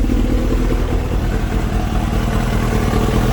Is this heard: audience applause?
no